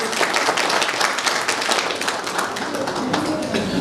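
Loud, vigorous applause from a hall audience at a de-addiction program event in Raipur, rapid overlapping claps filling the room close-up with a faint voice underneath.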